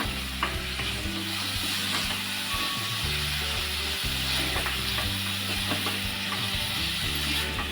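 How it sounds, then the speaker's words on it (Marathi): Banana flower stir-fry being mixed in a hot pan with salt, a continuous loud sizzle with scraping stirs and a low steady hum underneath, close and without talk. "आता ही व्यवस्थित अशी मिक्स करून घेऊया"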